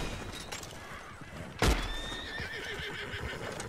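A horse in Red Dead Redemption 2 lets out a loud, close whinny with a sharp onset, surrounded by quieter hoof clatter and game ambience, with no talking.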